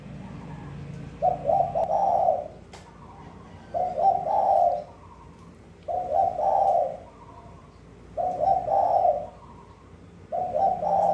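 A dove coos repeatedly in a steady rhythm, each soft, low call phrase separated by brief pauses, clear and close with faint background noise.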